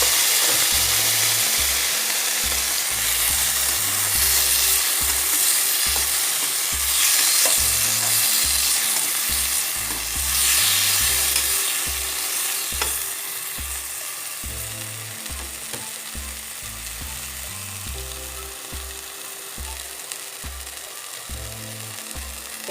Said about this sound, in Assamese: আমি এতিয়া বিলাহীখিনি ভাজি ল'ম।